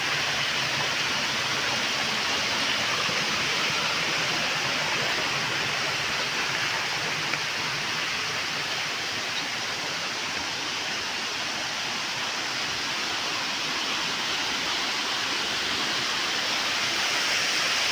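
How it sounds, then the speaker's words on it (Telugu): A waterfall by a road in the hills near Paderu, water pouring steadily down from the hillside in a dense, unbroken roar that stays loud and even throughout, with no voices over it. "కొండల నుంచి వాటర్ రావడం చాలా గ్రేటు"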